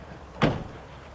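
The driver's door of a 1995 Winnebago Vectra Class A motor home shuts once, a single short solid thud that fades quickly against quiet background.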